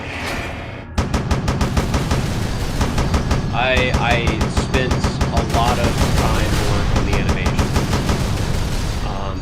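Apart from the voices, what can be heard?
vehicle turret firing in a video game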